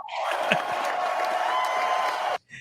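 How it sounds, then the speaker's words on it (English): A crowd claps and cheers at an awards ceremony, a sustained burst of applause with a few whoops that cuts off abruptly, leaving a brief faint sound. "Give a big warm applause for Daisy."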